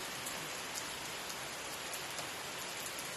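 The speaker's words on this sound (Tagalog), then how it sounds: "Umuulan na." Steady rain pours down in Italy, a dense even hiss of drops hitting surfaces with no other sounds.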